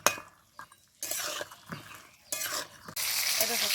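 Pointed gourd (potol) frying lightly in a pan, with a soft hiss that comes and goes in bursts over several seconds, alongside clinks and stirring scrapes of a utensil against the pan.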